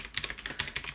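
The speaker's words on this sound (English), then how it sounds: "typing is hard apparently" Rapid keystrokes clatter on a computer keyboard during a coding session, a quick irregular run of soft clicks, close and fairly quiet, with no speech over them.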